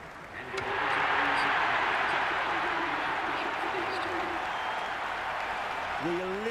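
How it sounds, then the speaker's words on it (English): Cricket stadium crowd at a Big Bash match between Hobart Hurricanes and Adelaide Strikers, roaring and applauding in a loud, sustained wash after consecutive boundaries, with a commentator's voice rising near the end. "Will you listen to that crowd? They are loving this."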